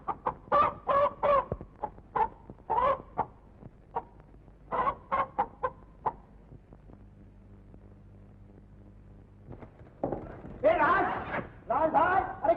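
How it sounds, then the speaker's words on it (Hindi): Rooster belonging to a man named Lallu clucks in short bursts in an old 1951 Hindi film scene, close and fairly loud, with people talking between and over the calls. "ये लल्लू का मुर्गा है, इसको घुमाने ले जाता हूँ"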